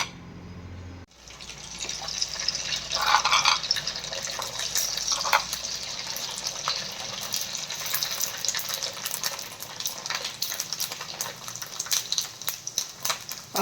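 Sun-dried sabudana (tapioca pearl) fasting papads drop into hot oil and fry with a sudden onset of steady, close, hissing sizzle that goes on bubbling and crackling without a break.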